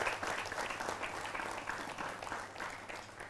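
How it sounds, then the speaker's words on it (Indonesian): Audience at an Islamic community gathering honouring IPMI, the Indonesian Muslim businesswomen's association, gives steady sustained applause, a dense wash of many hands clapping at moderate distance throughout. "kasih aplaus dulu buat IPMI"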